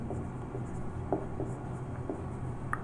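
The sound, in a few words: writing code by hand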